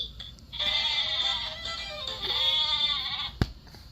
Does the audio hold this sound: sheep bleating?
yes